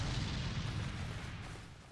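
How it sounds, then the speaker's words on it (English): A heavy cannon fired in the video game Bloodborne's Pthumerian Labyrinth, one booming low blast with a rumbling tail that slowly fades across the two seconds. "We can use the cannon ourselves,"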